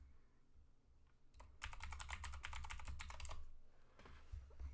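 Fingers tap out a login password on a computer keyboard, a quiet, close run of quick keystrokes that thickens into a dense burst in the middle before trailing off, with no talk over it.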